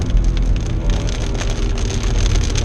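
Heavy rain drums steadily on the roof and body of an Audi RS3 at the Nürburgring, a dense patter of drops with a low rumble beneath, close and constant.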